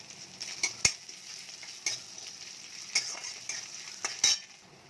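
Onion and grated garlic frying in a pan for a bottle gourd greens dish, a steady sizzling hiss broken by repeated clinks and scrapes of a spatula being stirred, close and fairly prominent, no speech.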